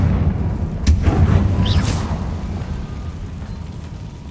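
A Confringo fire spell explodes in Hogwarts Legacy: a sharp burst followed by a second flare and a rolling, booming rumble that slowly fades.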